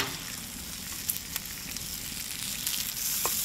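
Bacon sizzles and crackles in a pan as it finishes frying, a soft continuous hiss with scattered small pops, heard close and fairly quiet with no talking.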